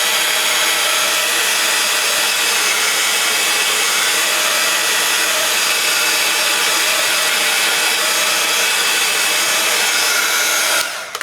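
A heat tool blasts air to dry a mixed media card, a loud, steady close-up whooshing drone that runs almost unbroken before cutting off at the very end.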